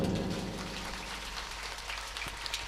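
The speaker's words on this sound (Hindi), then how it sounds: "हाथ ऊपर उठाओ और बड़ी जोर से ताली बजाओ" An audience at a religious wedding recital claps hard and fast, a dense continuous patter of many hands that is loudest at the start and eases slightly, with no talk over it.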